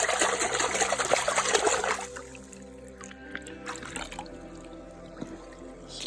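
Water trickles and splashes over an agate chunk as it is rinsed off, loud and close for the first two seconds, then fading to quieter drips and faint outdoor background.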